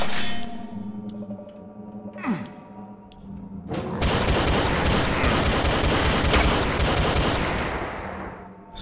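Gunfire in Brutal Doom 64 on Map 01 Staging Area, a few shots at first, then sustained rapid-fire blasting, loud and dense, with game sound effects and no talking.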